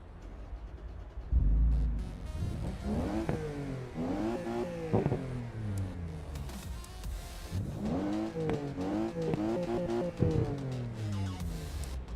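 In a racing video game, a Toyota Supra engine revs hard, climbing and falling in pitch as it shifts through repeated rising pulls. The sound is loud and continuous, with no talking over it.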